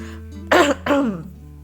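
Two quick, harsh throat-clearing coughs close to the microphone over a low steady hum.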